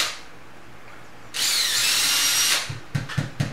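A power drill bores an exploratory hole into a ceiling to find a stud. It whines loudly for just over a second, then a few short bursts and knocks follow nearby.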